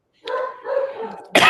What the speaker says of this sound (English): And it will bark nonstop till I go to the front door